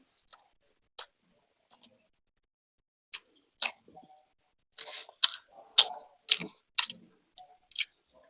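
Someone eats chicken momos fast in an eating challenge: a sparse run of quiet, crisp, wet chewing clicks and smacks that becomes denser and louder near the end, with no talk.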